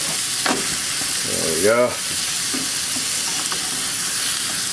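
A roast beef and cheddar sandwich grilling in a hot pan, hissing with a steady close sizzle and a brief shuffle as it is flipped, while a voice speaks briefly over the frying.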